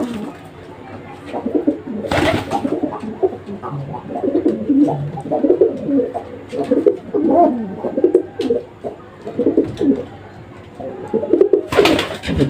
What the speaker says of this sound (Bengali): কবুতরটা এমনি আমার ভালো কবুতর।